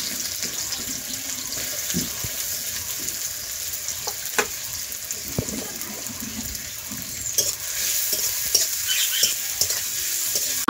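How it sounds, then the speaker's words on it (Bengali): Onions frying in hot oil for biryani in a village kitchen, a continuous soft hiss and sizzle with scattered light clinks and stirring scrapes, no talk. "এবার দিয়ে দিল তেল, দিয়ে পেঁয়াজটা ভেজে নেবে, পেঁয়াজটা ভেজে বেরেস্তা করে নেবে।"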